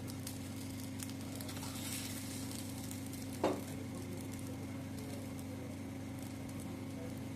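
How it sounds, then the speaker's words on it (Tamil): A ladle omelette cooks in a pan after flipping, giving an even, steady sizzle throughout with a low constant hum behind it and a single brief clatter around the middle. "அப்போ தான் கரண்டி ஆம்லேட் நல்லா வரும் திருப்பி விட்டுக்கோங்க கொஞ்சம் வேக விடுங்க"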